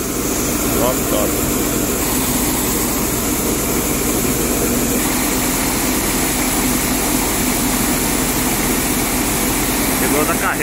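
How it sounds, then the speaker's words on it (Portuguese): A tractor and a grain loading machine run continuously while loading bulk corn, making a loud, steady engine drone and mechanical whir with no breaks, and a person speaks over the noise. "O cara fica no trator aqui e a máquina aqui só funcionando."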